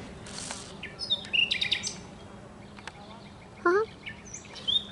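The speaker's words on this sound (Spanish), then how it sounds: "se escuchan todos los pajaritos y todo" Small birds chirp and tweet outdoors on a walk, several short high calls scattered over steady background noise, with one louder nearby call standing out.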